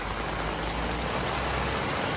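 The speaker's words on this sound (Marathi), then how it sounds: "लय जोर पाऊस यायला लागला आता." Heavy rain falls steadily outside a roadside hotel, a soft, even hiss of water with a faint low rumble beneath, moderately quiet and unbroken throughout, with no voices.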